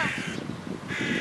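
Crows cawing outdoors in Egypt during the release of an eagle: repeated harsh caws in an irregular rhythm, moderately loud and close, with no talk over them.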